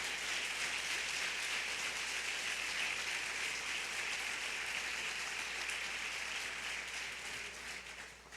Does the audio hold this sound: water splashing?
no